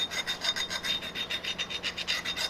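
Metal being filed with a coarse file on a Kearney & Trecker attachment part: quick, even rasping strokes, about five per second, close and crisp with no talk.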